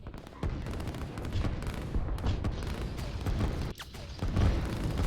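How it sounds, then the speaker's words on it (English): Dense, continuous artillery and gunfire booms roll without pause through a real-time strategy war game, loud and overlapping, with a brief dip before the barrage resumes. "the main problem right now is the force of artillery against these infantry over here"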